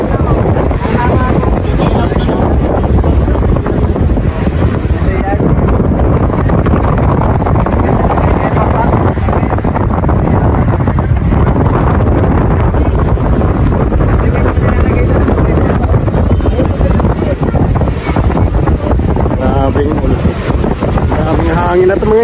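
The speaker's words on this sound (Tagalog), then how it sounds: "Ay, grabe ang lakas ng hangin." Strong typhoon wind roars steadily and loudly across the whole clip as a dense, continuous rush with heavy buffeting on the microphone, never letting up.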